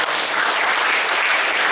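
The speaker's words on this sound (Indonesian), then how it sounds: "Tepuk tangan yang meriah buat kita semuanya." Lively applause from a crowd of ninth-grade students at a school motivation event, a dense, steady wash of clapping filling the room without pause.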